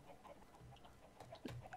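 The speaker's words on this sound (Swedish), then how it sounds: "Alltså det är verkligen kycklingar överallt." Chickens cluck softly in the Minecraft video game, a few short, faint clucks scattered over a quiet background, with the last one a little louder than the rest.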